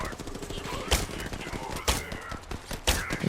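Apex Legends test shots sound as three loud, evenly spaced single gunshots, about a second apart, over steady in-game background noise.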